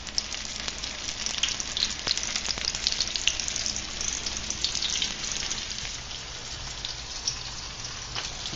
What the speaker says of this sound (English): And then we're just gonna drop them in the oil.